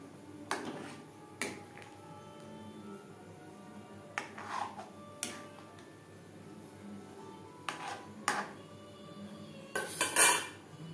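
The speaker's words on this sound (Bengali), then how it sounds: "দুধের সাথে ছানা বেশ ভালো করে মিক্সড করে দেব।" A spoon stirs chhana into milk in a pot for chhanar payesh, sharp metallic clinks against the pot repeating at irregular intervals over a low background hum.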